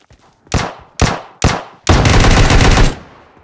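Machine gun fire in PUBG, three loud separate shots followed by a sustained rapid automatic burst of about a second, close and heavy.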